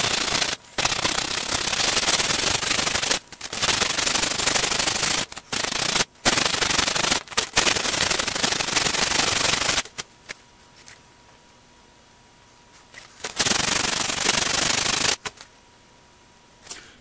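Sanding block rubbed over a badly corroded old Miller's Falls breast drill, loud steady scraping strokes in long bursts broken by brief pauses, then near silence before a final burst.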